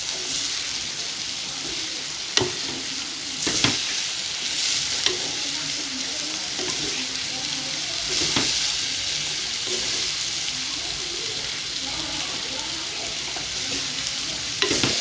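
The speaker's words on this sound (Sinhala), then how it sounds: "හොඳට තෙලේ බැදෙන්න දෙන්න." Shredded cabbage sizzles and fries in hot oil in a pan for a Sri Lankan coconut-milk curry, with steady broadband sizzle and repeated scraping stirs as the spoon moves the vegetables, no voices.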